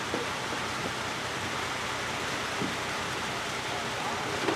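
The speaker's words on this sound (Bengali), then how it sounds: "আর এদিকে বৃষ্টি কিন্তু অঝরে পড়েই যাচ্ছে" Heavy monsoon rain pours steadily over the mangrove forest of the Sundarbans as a dense, even hiss with no breaks, and a few faint knocks sound through it.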